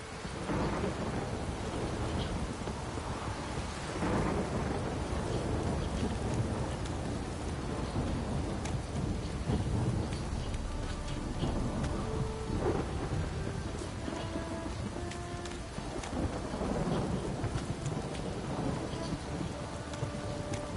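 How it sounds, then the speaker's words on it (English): Steady heavy rain pours throughout while low rumbles of thunder roll in and out, with faint rustling and a brief distant voice, in the video game The Witcher 3. "This downpour's a bastard"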